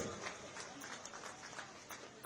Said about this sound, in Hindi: उनका ताली बजा के स्वागत कीजिए, अभिनंदन कीजिए